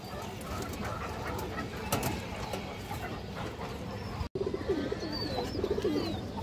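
A female pigeon of good breeding line coos among other pigeons at a bird market stall, the low calls repeating steadily through a busy, noisy background with a brief dropout near the end.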